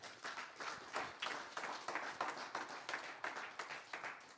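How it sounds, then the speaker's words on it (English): A crowd at a community forum applauds steadily, dense clapping sustained at an even level for several seconds with no talk over it. "So give Councilman a big round of applause."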